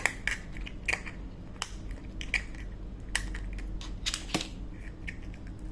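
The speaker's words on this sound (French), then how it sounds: "Là je gratte et je soulève, ce qui fait que ça en fait partir un gros morceau." Sharp scraping and cracking strokes of a knife against a hard surface, scraping dried resin from a pot, irregular and close, several bursts separated by short pauses.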